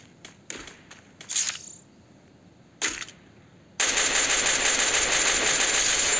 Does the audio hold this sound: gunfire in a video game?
yes